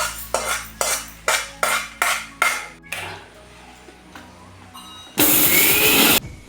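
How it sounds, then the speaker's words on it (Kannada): A kitchen mixer grinder coarsely grinds roasted rice, cumin and fenugreek: a series of short, evenly spaced pulses, then after a quiet pause a loud, steady whirring run of about a second. "ಇನ್ನು ಹುರಿದಿಟ್ಟಂತಹ ಅಕ್ಕಿ, ಜೀರಿಗೆ ಮತ್ತು ಮೆಂತ್ಯವನ್ನು ಮಿಕ್ಸಿ ಜಾರಿಗೆ ಹಾಕಿಕೊಂಡು ತರಿತರಿಯಾಗಿ ರುಬ್ಬಿಕೊಳ್ಳಬೇಕು."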